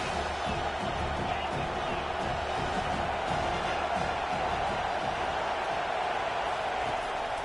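Stadium crowd noise from the college football video game NCAA 25, a steady dense roar of fans with faint cheers and whoops throughout, sitting beneath commentary.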